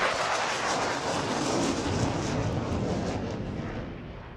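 Turkish Air Force Solo Türk jet taking off at an airshow, a broad continuous roar that stays loud and slowly fades toward the end.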